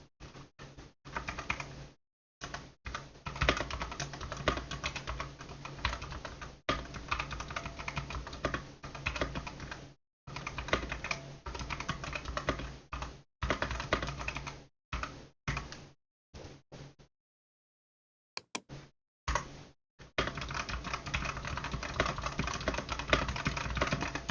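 Typing on a computer keyboard while writing presentation slides, with Enter presses among the keystrokes: steady, close clattering bursts of key taps broken by short pauses, with no voices.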